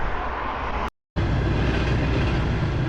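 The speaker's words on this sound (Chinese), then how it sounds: "哇哦，有火车过去，好酷！" A train rolls past close by during a cycling trip through China, giving a steady, loud rumble of rail wagons. The noise holds throughout except for one short dropout near the one-second mark.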